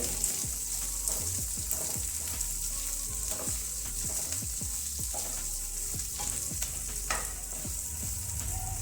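Onions sizzle and crackle steadily in hot oil in a pan, with repeated scraping and stirring strokes across the whole stretch, loud and close, while shahi paneer is being cooked; no voices.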